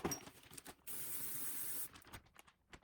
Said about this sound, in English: literally just spraying the bag full of penetrating, de-rusting, oily, lubricant stuff